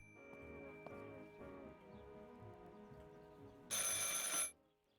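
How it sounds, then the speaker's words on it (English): A telephone rings in the horror video game Martha Is Dead, a bright electric bell burst sounding once loud and close, following a quiet stretch of low ambient music. "I should pick up the phone but remain silent."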